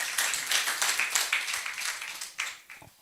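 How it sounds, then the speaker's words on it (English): Audience clapping at a university mentors and supervisors' workshop, a steady patter of many hands that swells and thins over a few seconds, fairly close, with no talk over it. "please clap for us"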